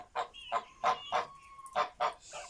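A flock of farmyard geese, with a gander among them, gives about seven sharp, evenly spaced honks in a steady rhythm, fairly near and moderately loud, with no talk.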